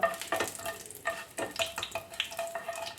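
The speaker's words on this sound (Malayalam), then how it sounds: "ഇനി ഒരു ബേ ലീഫും കൂടി ഇട്ട് കൊടുത്തിട്ട് നന്നായിട്ടൊന്ന് വഴറ്റിയെടുക്കാം" Whole spices and a bay leaf sauté in hot oil over a medium flame, a soft crackling sizzle with repeated scraping stirs and the light clink of a utensil against the pan.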